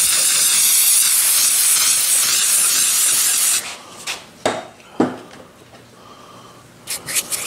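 An aerosol can of brake cleaner sprays onto engine parts of a 377 engine: a loud, close, continuous hiss for several seconds, then stops, followed by a few scattered knocks and clatters of handling parts.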